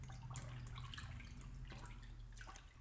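Water in a bucket splashes and sloshes in short irregular bursts, close up and fairly full-sounding, with no talk.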